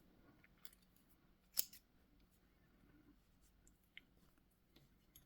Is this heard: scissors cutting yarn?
yes